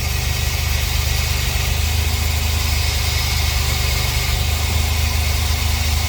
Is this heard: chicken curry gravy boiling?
no